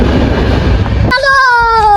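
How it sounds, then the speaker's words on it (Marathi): Inside a moving passenger train, a heavy, loud rumble fills the first second, then gives way to a sustained, high, tonal sound with strong overtones over a quieter background. "तर आता आम्ही बसलोय ट्रेन मध्ये."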